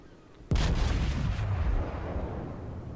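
Warship guns in World of Warships fire a single loud, deep boom that rolls into a long rumbling decay, with no talk.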